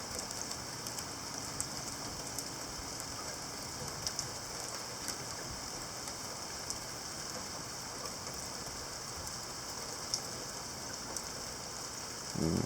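Heavy rain with large drops falls in a dense, steady hiss and patter during a summer storm. It keeps an even level throughout, with occasional sharper drop hits and no voices.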